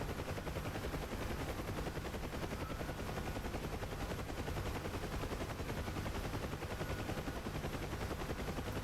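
A door gunner's machine gun fires steadily from a Huey helicopter in the DCS flight simulator, a dense continuous rattle blended with rotor and engine drone for the whole stretch, fairly faint.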